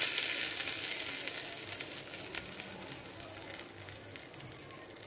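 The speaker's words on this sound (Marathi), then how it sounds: "आपण जिरेचा तडका देणार आहोत चटणीला मस्त असा।" Cumin seeds sizzle in hot oil while tempering a green chili chutney, a steady bright crackling hiss that starts strong and slowly fades, with no voices over it.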